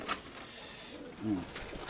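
A white-tailed pigeon pair coos softly at close range, one brief low coo rising in the middle against quiet background rustle.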